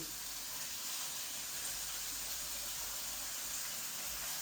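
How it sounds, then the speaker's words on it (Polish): Pork tenderloin sizzles in very hot fat in a pan, a steady, bright hiss and crackle close by, continuous and fairly loud with no talking. "na bardzo mocno rozgrzany tłuszcz układam polędwicę"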